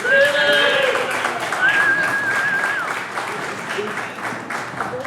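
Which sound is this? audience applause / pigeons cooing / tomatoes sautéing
audience applause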